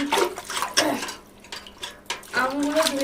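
Ripe mangoes being washed by hand in water, with splashing, sloshing and trickling sounds close by, interrupted by a quieter pause, while someone talks over it.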